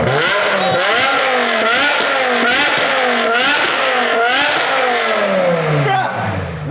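A BMW E60 M5 V10 with exhaust valves open revs hard and repeatedly, the loud, high-pitched scream climbing and falling in quick sweeps before dropping away at the end.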